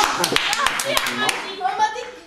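A small group claps hands at a children's storytelling show, a brief burst of uneven claps close by, mixed with speech and children's voices.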